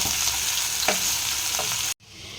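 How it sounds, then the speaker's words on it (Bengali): Steady broadband sizzle of onions frying in hot oil, with a couple of faint stirring scrapes, cutting off abruptly near the end. "পেঁয়াজগুলো ভালো করে ভেজে নেব।"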